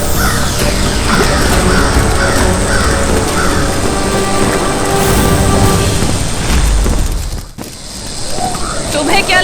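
A crow caws repeatedly in a series of harsh, loud calls over a busy, noisy background, with a brief drop in sound near the end.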